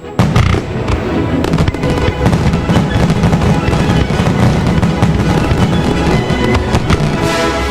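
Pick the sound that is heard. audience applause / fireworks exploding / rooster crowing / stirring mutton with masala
fireworks exploding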